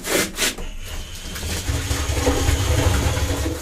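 A camper toilet cassette being emptied, with the vent button held down, pours and gurgles in a steady rush of liquid that builds and continues after a few knocks at the start.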